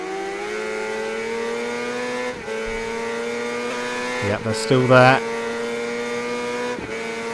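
Racing motorcycle engines from the video game RIDE 3, with a Honda CBR 600 F, hold a steady high-pitched drone with a rival bike close behind, revving briefly mid-clip while someone talks over it.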